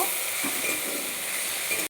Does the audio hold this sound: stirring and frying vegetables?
yes